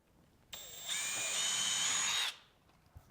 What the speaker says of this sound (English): For that, I'm pre-drilling into the ceiling joist.